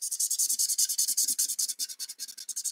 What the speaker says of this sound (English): sometimes it needs that rubbing motion to get the blend